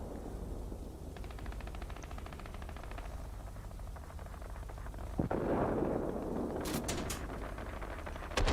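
Artillery strikes land on ground targets during a World of Warplanes flight, heard as distant thuds over a steady engine drone, then a sharp nearby blast and a rapid crackle of several impacts toward the end.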